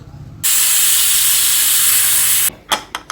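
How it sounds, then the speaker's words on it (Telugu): A pressure cooker cooking lentils lets out a loud, steady hiss of steam for about two seconds, then cuts off abruptly, followed by a few short sputtering bursts. "దాని తర్వాత నాలుగు విజిల్స్ పెట్టుకుందాము"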